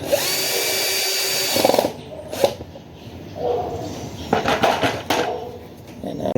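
Power drill tightening bolts on the air filter housing of a Kymco X-Town scooter, a loud steady whir for nearly two seconds, then several shorter bursts of drilling with quieter gaps between.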